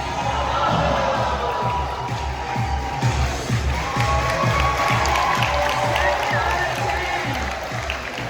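A crowd at a Dollywood summer celebration event cheers and claps continuously, a dense roar of voices close by, with a person talking over it.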